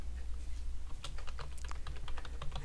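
Fast, irregular clicking of a computer keyboard as someone types code, the keystrokes close and crisp over a low steady hum, with no talking.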